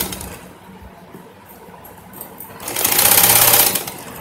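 A sewing machine runs a double-folded hem on black velvet for an umbrella skirt, starting with a quieter stretch and then rising into a loud, fast, steady whir of stitching close by.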